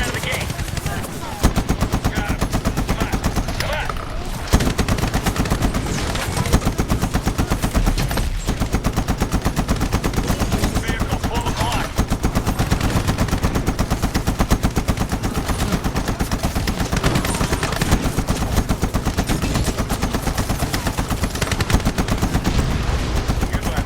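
Rapid machine-gun and rifle fire from the World War II shooter Medal of Honor, an assault on defensive lines to seize an airfield control tower, rattling continuously and loud throughout with dense overlapping bursts and a voice talking underneath.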